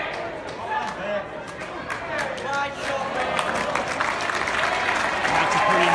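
A crowd at a lawn bowls premier division grand final breaks into sustained applause for a good shot, steady clapping that builds in loudness, mixed with a little chatter.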